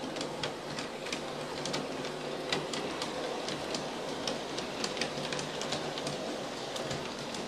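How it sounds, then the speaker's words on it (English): A model train being pushed through an Aristo wide radius turnout on an 8 ft diameter circle of track, giving a steady rolling rumble with a quick series of light clicks and ticks from the rails, fairly quiet and continuous. "I'm going to push the train through the turnout"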